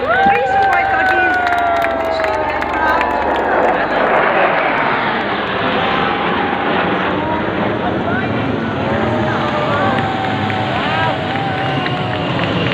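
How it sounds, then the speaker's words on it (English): Three Sukhoi Su-30MKI jets roar loudly overhead in formation at a Republic Day parade flypast, a steady, sustained rumble, with a commentator's voice and crowd noise mixed underneath. "formation comprising 3 Sukhoi 30 MKIs. As the aircraft come over us"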